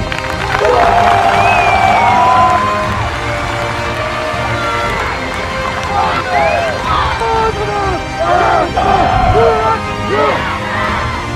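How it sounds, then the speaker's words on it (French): A crowd at a centenary celebration for the Lones cheers and whoops loudly, with high shouts and children's voices over steady clapping that carries on without a break. "On peut leur faire un tonnerre d'applaudissements"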